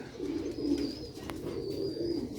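Pigeons cooing steadily in a low, throaty murmur, with faint higher bird chirps now and then, close and continuous.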